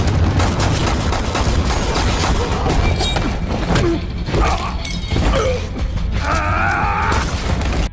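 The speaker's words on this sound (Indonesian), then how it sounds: "Hingga baku tembak antara Miguel, dan kelompok anak buah Gomez pun terjadi." A film gunfight packs dense bursts of gunfire, impacts and shattering, with loud thuds and mechanical clatter filling the whole stretch.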